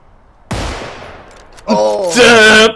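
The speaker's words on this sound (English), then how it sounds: "Do you just hear single gunshots every now and then?" Distinct single gunshots from a sniper rifle in a video game: one loud close crack with a long ringing decay, then a second shot as a voice breaks into shouting over it.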